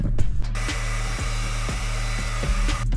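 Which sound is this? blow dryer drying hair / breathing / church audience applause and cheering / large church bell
blow dryer drying hair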